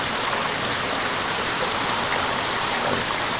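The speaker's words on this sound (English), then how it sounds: "I would assume this is Drake's Brook." Drake's Brook rushes along a White Mountains hiking trail, a steady, dense hiss of flowing water close by with no breaks.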